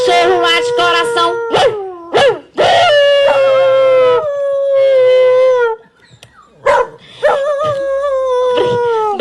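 Dogs howl loudly in long rising and falling wails with a few sharp barks and whimpers at an on-stage dog show, close and dominant, with crowd noise underneath.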